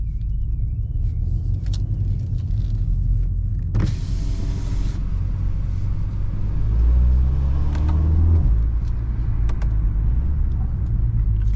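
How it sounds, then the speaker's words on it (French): BMW X2 M35i xDrive with its 306 hp four-cylinder engine in sport mode, a steady low rumble inside the car that swells briefly as it revs, with an electric window whirring partway through. "On peut vraiment bien entendre le son du 4 cylindres qui est assez rock"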